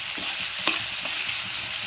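Banana peels fry in oil in a pan for a chutney, giving a steady close hiss and sizzle with a few soft stirring scrapes and no voices.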